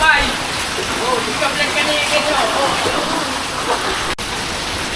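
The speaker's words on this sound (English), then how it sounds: "Because this rain isn't going to stop all night apparently." Heavy rain pours steadily through typhoon Fung-wong in Bicol, a dense, constant wash of water loud and close throughout, with a brief dip near the end.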